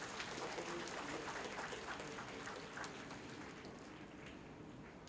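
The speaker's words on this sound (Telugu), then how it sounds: "మీ చప్పట్లు కొట్టి వారిని" A church congregation at a confirmation service claps to bless the children, a faint, continuous patter of applause from a crowd heard at a distance.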